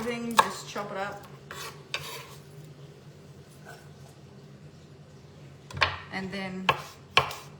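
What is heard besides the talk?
chopping garlic with a knife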